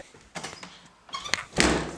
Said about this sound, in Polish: Zamknij drzwi.